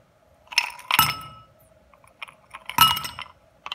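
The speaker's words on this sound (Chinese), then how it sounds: "然后我们再加一些冰块" Ice cubes clink into a glass of rock-sugar lemon drink, several sharp separate clinks and rattles in a quiet room, the loudest near the start and in the middle.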